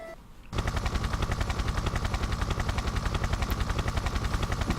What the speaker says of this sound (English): the helicopter is dropping us off